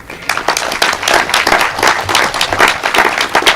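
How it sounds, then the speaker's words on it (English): Round of applause for staff at a ribbon-cutting ceremony for a new child care centre in Winnipeg, dense close clapping from a crowd, loud and continuous for several seconds. "I want to give my staff a round of applause for the great work"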